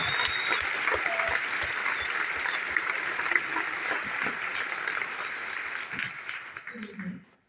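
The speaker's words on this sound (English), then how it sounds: "One more round of applause" At a high school graduation ceremony for Camden Hills Regional High School, a large audience applauds loudly and steadily before the clapping fades out.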